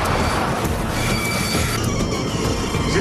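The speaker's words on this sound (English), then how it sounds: "A runaway train with defective brakes races towards Paris's Gare de Lyon." A runaway train with defective brakes races toward a packed Paris Gare de Lyon at rush hour, a loud continuous roar of rolling rail noise with faint wheel squeal, no voices.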